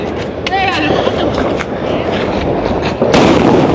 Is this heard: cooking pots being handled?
no